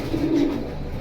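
A pigeon gives a single low, soft coo, close by and alone, with no other sounds over it.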